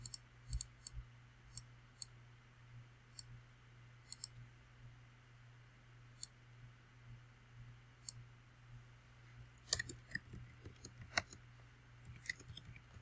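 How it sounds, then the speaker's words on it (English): Computer keyboard typing and mouse clicks while laying out text for an HTV T-shirt design, sparse light taps and clicks spaced irregularly over a low steady hum, with a quicker cluster of keystrokes near the end. "I'm just going to type the words that she wants."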